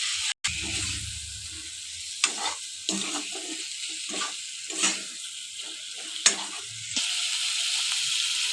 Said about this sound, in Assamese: মাছখিনি আগতে ধুনীয়াকৈ ভাজি ল'ম